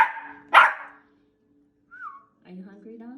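A dog lets out a single sharp, close bark, followed by a brief whistle-like tone and a few softer yips and voiced sounds. A person speaks at the start.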